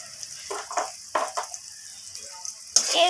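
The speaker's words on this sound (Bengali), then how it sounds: "এইভাবে আমি মশলাটাকে একটু ভাজা ভাজা করে নেব" Ground spices frying in a pan with tomato and capsicum produce short bursts of stirring and sizzle against a quiet background, ending in a louder sustained hiss as the mixture is fried.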